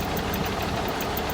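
A 1980 Marmon cab-over truck with a Cummins engine idles in a steady, even rumble, close and constant without voices.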